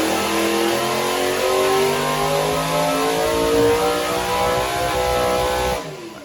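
A supercharged 1060-horsepower small-block Chevy V8 revs hard and loud at close range. The roar stays steady for several seconds and then cuts off abruptly.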